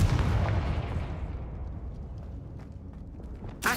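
A Confringo spell in Hogwarts Legacy goes off as a loud, booming fiery blast that rolls away and fades over a few seconds, ending in a sudden sharp burst.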